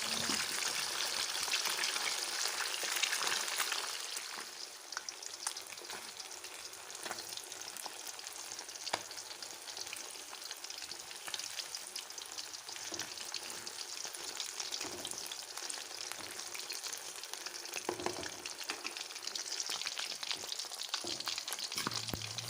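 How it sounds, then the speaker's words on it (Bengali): Katla fish pieces fry in hot oil in a pan with a continuous, crackling sizzle, punctuated by occasional clinks and stirring sounds over about twenty seconds, with no speech. "মাছগুলো মোটামুটি ভাজা হয়ে গেছে, এখন তুলে নিচ্ছি।"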